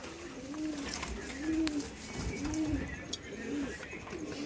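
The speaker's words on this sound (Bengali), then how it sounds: "এই দেখুন কালদম পায়রা" Kaldam Giribaz pigeons, a tumbler breed, coo in a steady series of low, rolling calls about once a second, close by over a noisy background, with some people talking.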